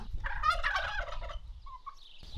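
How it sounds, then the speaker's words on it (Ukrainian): Domestic turkeys on a smallholding in a Ukrainian-Bulgarian village gobble in a loud, rapid, rattling burst close by, then fall quiet, with a few softer calls trailing after. "Имам около 70 индюки."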